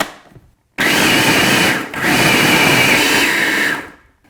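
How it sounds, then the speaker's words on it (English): A blender whirs loudly as it mixes a no-bake, dairy-free, gluten-free vegan cheesecake filling. It runs in two long, close bursts with a brief dip between them, then winds down into silence. "now we're going to screw our lid back on and then just mix this until well combined"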